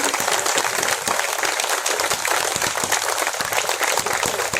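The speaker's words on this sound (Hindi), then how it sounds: "ताली कमजोर है, लेकिन ताली थोड़ी अच्छी मिलेंगी।" Crowd of the Punjabi community clapping at a welcome event in Ratan Garden, Gurugram, a dense, steady wash of applause holding at even loudness throughout, with no talk over it.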